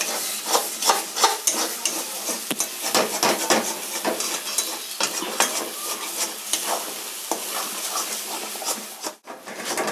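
Lote fish cooking down in a pan is stirred constantly, busy scraping and clattering of a spatula on metal over a soft sizzle, close and continuous with a brief pause near the end.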